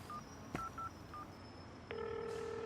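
A telephone in a Hindi-dubbed film scene gives an incoming-call signal as a few faint, short electronic beeps, followed by a steady sustained tone, all quiet and with no voices.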